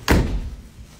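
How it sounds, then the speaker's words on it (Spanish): A door is shut with a single solid thud, close and fairly loud, followed by a brief dull resonance that fades in quiet room tone. "cierra la puerta"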